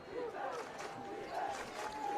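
A home crowd at a Bridgewater-Raynham varsity football game chants and shouts from the stands, a steady, somewhat distant roar of many voices rising and falling in rhythmic bursts without letup.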